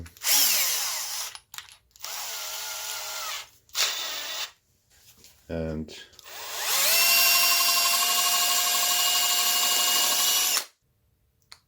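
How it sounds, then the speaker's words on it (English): A power drill spinning a bit in a regular sponge whirs in several short bursts, then runs steadily for a few seconds before stopping; loud and close, with no talking. "Remove one of my bits, put it into the drill."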